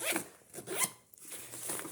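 A zipper being pulled open and closed on a Mystery Ranch Blitz 35 backpack pocket, several quick raspy strokes close up, with no talking.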